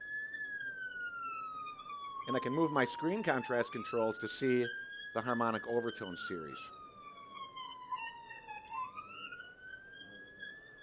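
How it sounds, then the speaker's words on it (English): A police siren, extracted in audio editing software, wails in a clear, sweeping tone with strong harmonics, rising and falling slowly while someone talks over it for several seconds. "The siren sounds like this when it's extracted"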